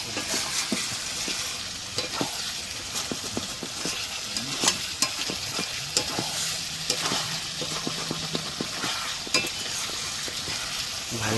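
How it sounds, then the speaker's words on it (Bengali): Potatoes fried in a pan for a chicken-skin picnic dish are stirred with sharp clicks and scrapes against the metal over a continuous sizzle, close and busy throughout, with no speech. "আলুগুলো নাড়তে হয় ভালো করে।"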